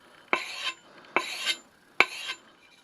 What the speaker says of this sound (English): I will run that strap backwards across it